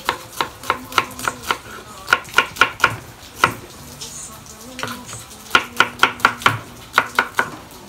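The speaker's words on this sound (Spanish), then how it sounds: "Vamos a picar la cebolla en rajitas." A knife chops an onion into strips on a cutting board in a home kitchen, giving bursts of sharp, rhythmic close-up thuds in quick runs of three to five strokes with short pauses between them.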